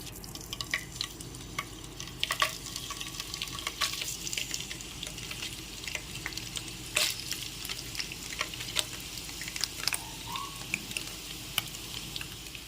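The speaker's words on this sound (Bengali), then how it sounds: "এখানে পনিরগুলো দিয়ে ভেজে নেব।" Cubes of paneer fry in hot refined oil with a steady, crackling sizzle throughout, dotted with sharp pops and light clinks of a utensil, no voices present.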